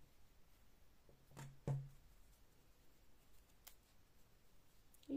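Scissors snip the yarn of a small crocheted strawberry keychain: two quick, close, quiet cuts in a hushed room, then near silence.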